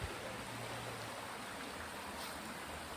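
The Dordogne river at Argentat flows in a soft, steady rushing wash, faint and continuous with no breaks, heard alone without voices.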